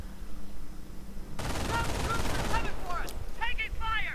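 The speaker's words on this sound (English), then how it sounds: "MG42 opening up on the right here, going for the point there" An MG42 machine gun fires in a real-time strategy video game as a sudden sustained rattling burst, loud and close, followed by chirping, whistling game effects.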